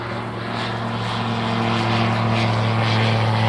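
Propeller aircraft engine droning steadily near the White Horse at Kilburn, North Yorkshire, loud and close with a constant tone that swells slightly as it takes off.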